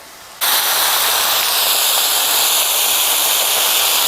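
Steady, loud sizzling hiss of beef steak frying on a hot flat-top griddle, starting abruptly and continuing without a break.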